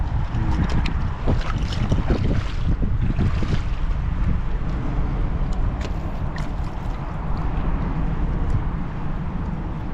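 Strong wind buffets the microphone aboard a small boat at sea during a seaside fishing outing, a loud continuous rushing roar mixed with waves and occasional splashes and knocks.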